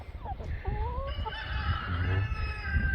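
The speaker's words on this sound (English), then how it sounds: "They're chickens." Chickens cluck and squawk in short calls, some high and nasal, with a steady low hum underneath and no talking.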